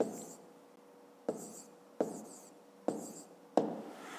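A pen writes by hand during a fifth-grade maths exercise, heard as a string of short scratchy strokes, each starting with a light tap, about one every second, close and quiet with no voice.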